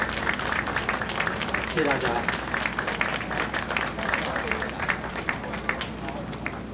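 A crowd at a vote-counting night event in Taiwan applauds steadily through a dense mass of clapping, while someone speaks over it on a microphone.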